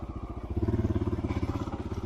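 A Honda XR650L motorcycle engine runs during a ride, with a steady low throbbing pulse that swells slightly louder midway and carries on without any talk.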